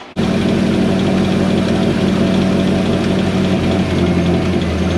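A Chevrolet LS6 V8 car engine runs loud and steady close by, a constant heavy rumble with a hint of knocking that starts abruptly and holds without a break.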